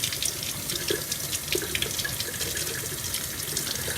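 Tap water runs steadily into a sink while broccoli sprouts are rinsed, a continuous close splashing hiss with small knocks from handling.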